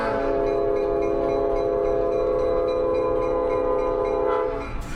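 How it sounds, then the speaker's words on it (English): A train passes close by, its horn sounding a loud, sustained tone over the rumble and clatter of the cars. "There's a train coming right"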